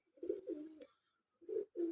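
Soft, low pigeon cooing in two bursts of throaty warbling, separated by a brief pause, fairly close and clear with no talk.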